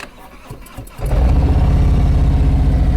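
A motorcycle engine is heard during slow-speed riding practice, with a quiet lead-in, then a loud, steady low rumble from about one second onward as the bike pulls away close by.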